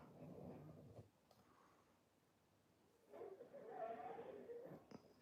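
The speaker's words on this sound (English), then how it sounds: "Dog's snoring now." A sleeping dog snoring softly, two slow breathy rumbles separated by a quiet pause, faint and close in a quiet room.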